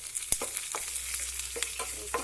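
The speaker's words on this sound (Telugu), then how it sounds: "ఫ్రై అయ్యాక కాస్త కరివేపాకు, ఒక్క రెమ్మ, కాస్త కొత్తిమీర" Curry leaves and coriander are fried in hot oil in a pan as a tempering for buttermilk curry. A steady, close sizzle is broken by scattered scrapes and clicks of stirring.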